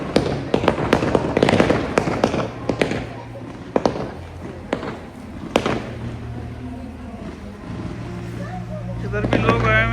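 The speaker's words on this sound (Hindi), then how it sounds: "पिछले 7 मिनट से यहाँ पे आतिशबाजी हो रही है" Fireworks burst at a large outdoor show beside commercial buildings, a rapid barrage of sharp bangs and crackles in the first seconds, then scattered louder booms with a steady low rumble between, with people talking faintly in the background.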